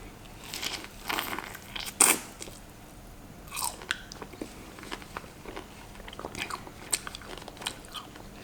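Someone bites into and chews fresh raw honeycomb taken straight from a tree, giving a few close crunchy, sticky bites with scattered soft chewing noises and quiet pauses in between.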